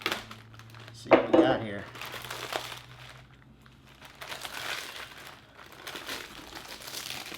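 Plastic vacuum-seal bag crinkles and rustles as it is cut and peeled off a dry-aged beef cut, close crackling bursts that continue steadily, with someone briefly talking over the handling.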